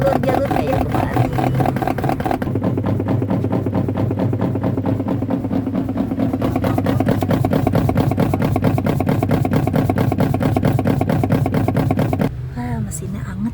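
Portable Arashi AWM 451A washing machine spin-drying laundry, the drum turning with a loud, steady motor hum and rapid rhythmic rattling pulses throughout, someone speaking over it.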